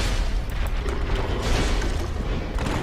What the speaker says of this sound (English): The only thing you have to worry about is the explosion that he does